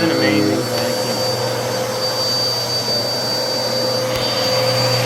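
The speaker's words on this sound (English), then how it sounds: "Oh yeah, she's an amazing vacuum." A Bissell Cleanview 2492 upright vacuum cleaner runs steadily and loudly nearby, its motor holding a constant whining drone throughout with a faint high tone on top.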